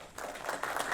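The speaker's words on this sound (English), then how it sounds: "Give them all a round of applause there." An audience applauds at a community discussion on mental health and suicide prevention, following traditional Cahuilla bird songs: a short burst of moderately loud clapping from a crowd.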